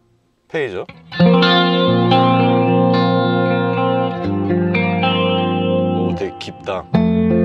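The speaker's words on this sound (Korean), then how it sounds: "페이저." Yamaha THR10 II guitar amp running its phaser effect, loud sustained guitar chords with a sweeping, swirling tone and reverb tails, played alone for several seconds.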